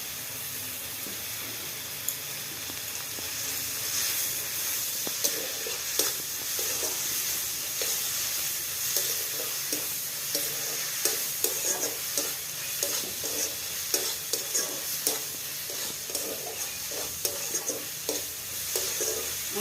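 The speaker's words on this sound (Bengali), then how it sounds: "গুঁড়ো ঝাল দিলাম, কড়াতে রসুন বাটাটা দিয়ে দিলাম" Garlic paste and chili powder fry in a karahi for dal makhani, giving a steady close sizzle broken by repeated stirring scrapes throughout, with no voices.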